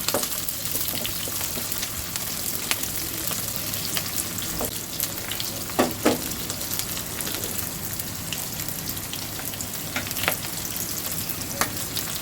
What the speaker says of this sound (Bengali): রসুনের সাথে আমি পেঁয়াজটাকেও ভেজে নিব।